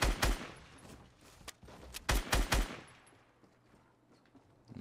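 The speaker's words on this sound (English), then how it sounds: "Let's see if we can just shoot him through the thing." Rapid bursts of video game gunfire from Fortnite on Nintendo Switch ring out, several sharp clusters of shots early and around the middle, then fading to quieter ambient game sound.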